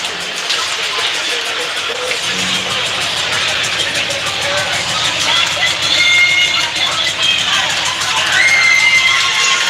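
Ice hockey crowd at a Bowling Green home game during the second period, a dense, steady roar of cheering and shouting that fills the arena and swells slightly toward the end, with no voice standing out.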